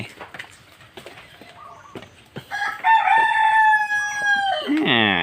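A rooster on a flooded farm crows loudly and close up, one long drawn-out call rising over quieter farmyard clucks and splashing.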